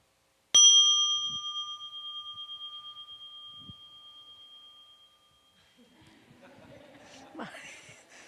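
A meditation bell at a Buddhist retreat is struck once and rings out with a clear, sustained tone that slowly fades over several seconds before a voice begins speaking.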